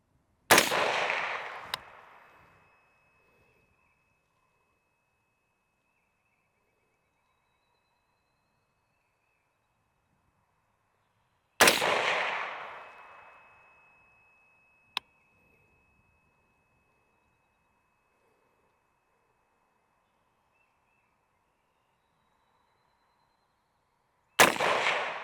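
A PSA Sabre rifle fires three loud, sharp shots about ten seconds apart at an outdoor range during an accuracy test, each report decaying quickly into silence.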